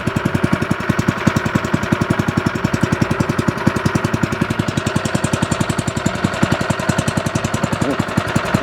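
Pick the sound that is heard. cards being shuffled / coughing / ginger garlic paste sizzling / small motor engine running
small motor engine running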